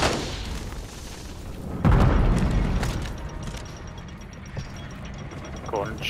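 Thermite grenade blast in Call of Duty, a single heavy boom with a rumbling tail, surrounded by scattered gunfire and game effects.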